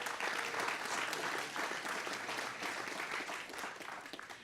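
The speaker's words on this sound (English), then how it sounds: "So let's go ahead and give them a round of applause for Bowie." Steady audience applause for quiz bowl players at a championship match, a dense continuous clapping from a crowd that holds evenly for several seconds without talk.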